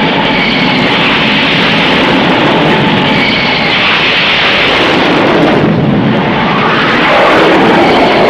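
Jet engines on a US Navy aircraft carrier off Vietnam in 1967 roar loud and steady at close range, a dense continuous blast with no voices.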